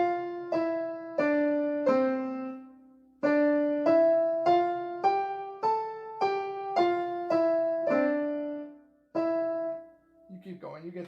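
A piano warm-up exercise played with both hands at once: a slow, even run of clear struck notes climbing and falling step by step, each ringing briefly, with a short pause partway and a faint noise at the end.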